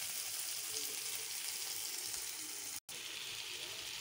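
Mashed potato is stirred into sautéed tomato, onion and chilli, making a steady soft sizzle and wet frying hiss that runs close and even, with one brief dropout and no talk.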